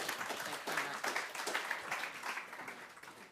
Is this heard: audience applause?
yes